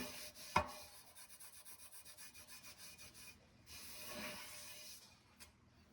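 Rhythmic rubbing of a cloth working oil into a restored cast iron pan, a steady run of soft swipes close by with one sharp knock near the start and no talk.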